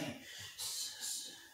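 Sharp exhaled breaths timed with punches during a home boxing drill: two short hissing exhalations, close but faint, in a quiet room.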